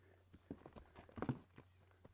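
A horse's hooves clip-clop in a short irregular series as it steps up onto larger obstacle steps during groundwork, faint but distinct against a quiet background.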